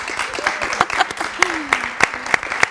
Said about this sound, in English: Please give her big applause.